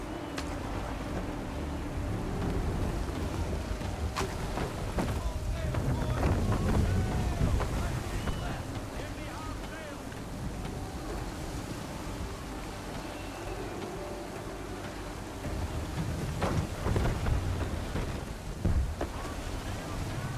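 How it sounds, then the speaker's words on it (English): Storm conditions at sea aboard a sailing ship in Assassin's Creed III: heavy wind gusts, rushing water and creaking, with low rumbling bursts around the middle and end. Game dialogue is spoken over it. "There's a storm coming, Captain. Feels like a big one."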